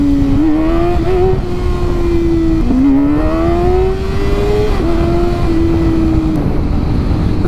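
A motorcycle fitted with a cheap eBay aftermarket exhaust that replaces the stock muffler drones loudly and close, its engine note rising and falling through repeated revs with no talk.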